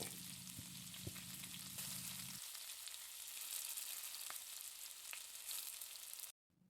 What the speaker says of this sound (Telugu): అప్పుడు రెండవ సైడ్ కూడా బాగా ఫ్రై అవుతుంది.